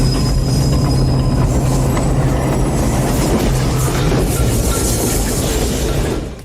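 An elevated L train rumbles past at a steady, loud roar in a movie chase scene, wheels grinding and squealing on the rails throughout before easing slightly at the end.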